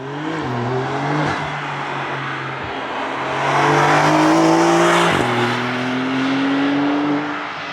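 A Porsche 992 sweeps past on the Nürburgring, its engine note rising and falling as it nears and recedes. Strong wind buffets throughout, and a second car passes partway through.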